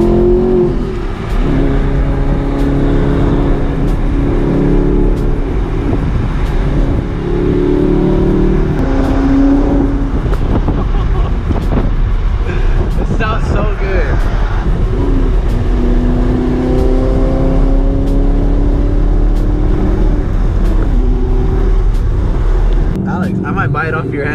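Manual Audi R8 V8 exhaust while driving, loud and close throughout, with rising and falling engine revs and gear changes as people talk inside the car.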